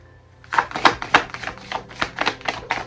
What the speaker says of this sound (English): let's shuffle over here.